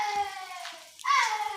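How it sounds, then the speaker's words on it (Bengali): A cat meows on a street during an evening bicycle ride, two short cries close by, a thinner one followed by a louder, sharper one, with a voice faintly nearby. "দেখ সামনে বিড়াল"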